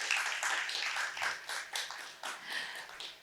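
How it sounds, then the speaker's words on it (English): Startup forum audience clapping for the pitching teams, a lively patter of individual hand claps in uneven bursts that rise and dip, fairly close and moderately loud, with no talking. "Can we give a round of applause to all our startups today?"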